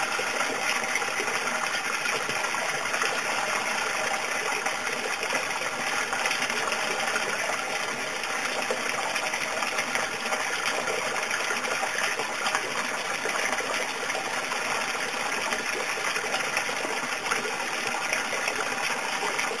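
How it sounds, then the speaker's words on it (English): A bell siphon drains an aquaponics grow bed, water gushing steadily in a constant rushing, gurgling flow heard up close with no letup throughout. "It's just about to run out of water and finish"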